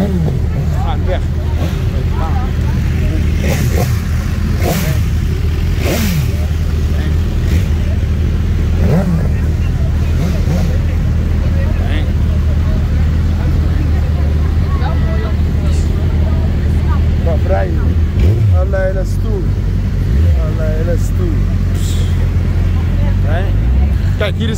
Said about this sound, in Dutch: Kijk al die motors. Ze gaan weg.